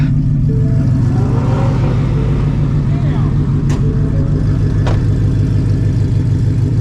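A 900HP Shelby GT350 with a new twin disc clutch roars loudly and steadily from inside the cabin under acceleration, a deep pulsing engine drone throughout with brief faint clicks.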